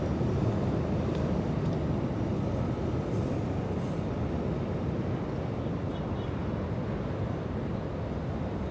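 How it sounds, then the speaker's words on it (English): An Embraer E175 jet takes off at Los Angeles International Airport, a steady, loud broadband engine roar that holds evenly throughout without breaks. "the E175, like everyone heard through the ATC, cleared for takeoff"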